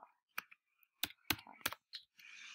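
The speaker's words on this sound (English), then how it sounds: "I'm typing up everything wrong" Bursts of computer keyboard typing, a few separated clicks then a quick cluster of sharp keystrokes, close and fairly quiet with no talking, during a round of an online search-guessing game.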